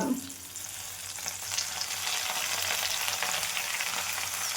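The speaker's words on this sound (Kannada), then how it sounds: "ಫ್ರೈ ಮಾಡಬೇಕು ಇದೆಲ್ಲ ಚೆನ್ನಾಗಿ" Mutton chop masala with mint and coriander sizzles steadily in hot oil, a dense continuous frying hiss with faint stirring that holds close and even throughout.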